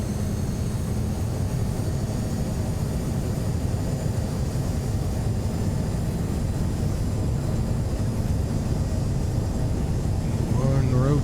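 Steady broadband roar of a simulated airliner's engines accelerating on the takeoff roll in Microsoft Flight Simulator 2020, flying Mudhole to Juneau in a Longitude, loud and continuous with a faint rising tone near the end.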